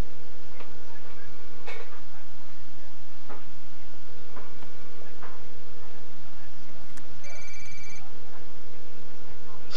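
A telephone rings repeatedly in the Law & Order Legacies video game, a steady electronic tone sounding in regular bursts, with clicks and ticking under it and a few brief beeps.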